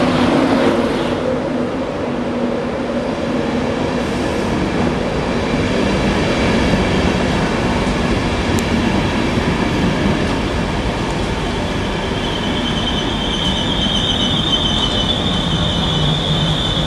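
A busy passenger train runs on the line from Peterborough to Doncaster, heard from on board as a loud, continuous roar of wheels on rails with squealing tones and rattling throughout.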